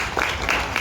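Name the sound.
audience applause at a cultural day event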